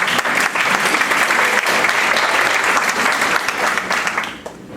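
An audience applauding at a political communication journal launch presentation, dense sustained clapping from a crowd in a hall, loud and steady before tapering off at the end.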